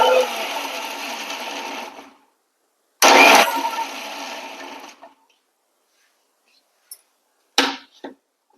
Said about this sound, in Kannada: ಕೊತ್ತಂಬರಿ ಸೊಪ್ಪು, ಸ್ವಲ್ಪ ಈರುಳ್ಳಿ ಇದು ಹಾಕಿ ತರತರಿ ಆಗಿ ರುಬ್ಬೇಕು ಇದನ್ನ.